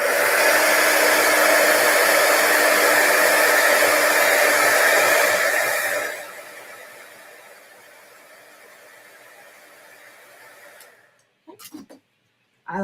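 A heat tool blasts steadily for about six seconds while it sets alabaster embossing powder on a stenciled craft piece, then drops to a quieter whir. It cuts off near the end, and a few light taps follow.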